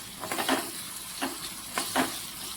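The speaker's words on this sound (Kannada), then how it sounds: "ಇದು ಒಂದು ಸ್ವಲ್ಪ ಫ್ರೈ ಆಗಲಿ" Onions and chili powder frying in oil in a pan for a fenugreek-leaf stir-fry, giving a low, steady sizzle with a few soft stirring scrapes spread across the pass.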